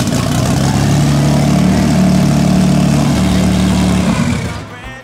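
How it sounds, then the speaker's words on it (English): A Porsche 993 GT2 EVO engine idles close by, a loud steady low rumble with a droning tone that holds for about four seconds before cutting off abruptly. "now we're gonna fire it up and check how it runs again"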